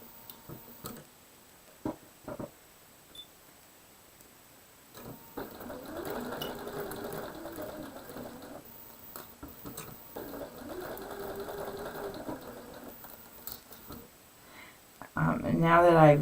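Sewing machine stitching quilt pieces in two sustained bursts of rapid mechanical whirring and ticking, set between quiet pauses with scattered clicks and handling sounds, closing with a brief louder noise.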